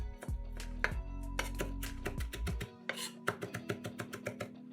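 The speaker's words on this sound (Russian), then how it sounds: "Измельчаем небольшой пучок петрушки." A small bunch of parsley is chopped with a knife on a board, giving a run of sharp, fairly close taps in an uneven then steadier rhythm over soft background music.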